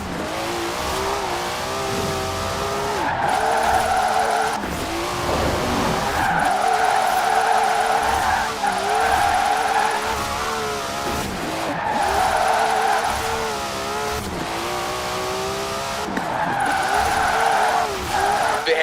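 Car tyres skid and burn in Forza Horizon 4, with loud, repeated screeching bursts laid over a revving engine across several drifting passes.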